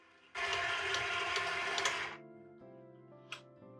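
A stand mixer with a paddle attachment starts up loudly, whirring steadily for about two seconds before winding down, followed by a faint clink.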